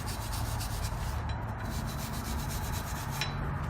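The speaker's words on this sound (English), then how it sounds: "you want to clean up the corrosion and rust here off of the hub so that the rotor will sit flat" Rust and corrosion are scrubbed off the brake hub of a 2010 Range Rover Supercharged, making a steady, close, continuous abrasive rubbing with no pauses and no voices.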